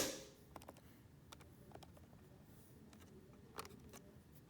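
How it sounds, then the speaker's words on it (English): A calculator keypad tapped in a quick, uneven run of light clicks, each press faint and close, with no voices. "Type this into our calculator."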